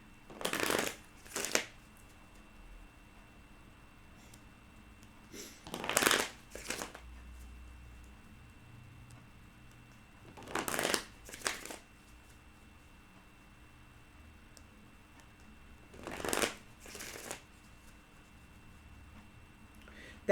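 A deck of cards shuffled by hand four times, each a brief riffling burst with soft card taps, close and clear, separated by long quiet gaps.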